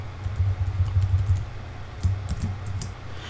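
Quick, light keystrokes on a computer keyboard while a code comment is typed, coming in two close bursts over a low steady hum, with no talking.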